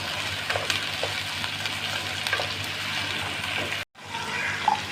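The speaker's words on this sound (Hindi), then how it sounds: "लहसुन अदरक को फ्राई करेंगे।" Ground garlic-ginger paste frying with chicken in a pan for a chicken and potato curry, giving a steady close sizzle with stirring scrapes, broken by a brief cut before the sizzle resumes.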